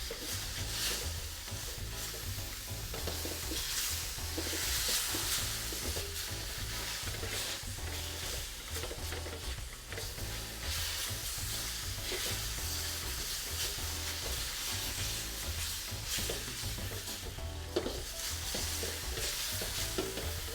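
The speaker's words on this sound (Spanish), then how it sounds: "Vamos a esperar 2 minutos más para que la pechuga quede bien sellada" Chicken breast sears in oil in a pan for homemade Chinese fried rice, a steady dense sizzle running the whole time with faint stirring scrapes mixed in, close and constant, with no voices.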